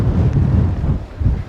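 Strong wind roars across a microphone on the coastal cliffs at Eyemouth on the Scottish border, a loud, continuous low buffeting that surges in gusts, with no voices.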